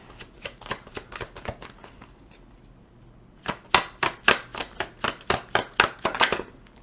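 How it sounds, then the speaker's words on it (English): Tarot cards are shuffled in two bursts of crisp riffling snaps, a faster run first and then a louder, steady series of about a dozen flicks after a brief pause, close up and without talk. "So let's pull some more cards and figure out what this is about."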